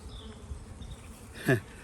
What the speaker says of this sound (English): There are bees on it.